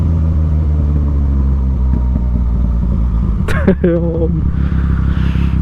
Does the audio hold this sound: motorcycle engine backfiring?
yes